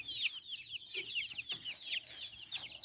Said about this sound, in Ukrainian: Так, курчатка гуляють.